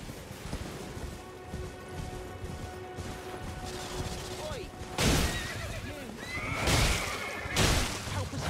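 A horse neighs in the video game Elden Ring, with loud bursts of whinnying and crashing game effects rising above a busy background of clatter and mechanisms.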